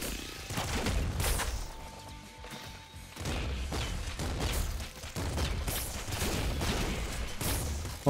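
Rapid bursts of heavy flak cannon fire and crashing impacts in the roguelike video game Nuclear Throne, repeating in quick volleys with whooshing projectiles.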